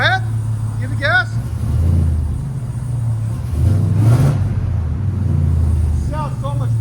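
A Jeep Gladiator with a Demon engine swap, headers and Valvetronic Designs exhaust with the valves closed, revving in a deep, steady, muffled rumble that swells twice, with people talking over it.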